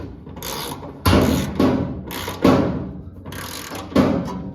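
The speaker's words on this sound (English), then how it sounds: "It'll make that sound every time because that's the wrench hitting above." A ratchet wrench tightens a nylon locking nut over a washer on a battery box in an electric-swapped Toyota pickup, giving four sharp knocking bursts with rattling clicks as the wrench strikes metal above.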